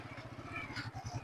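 A motorcycle engine putters close by with a low, rapid, uneven pulsing beat, faint and brief with no clear voices.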